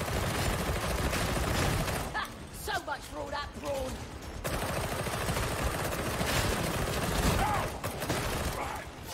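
Autopistol gunfire in the video game Warhammer 40K Darktide, loud sustained bursts of rapid shots with mechanical clatter, pausing briefly in the middle before resuming.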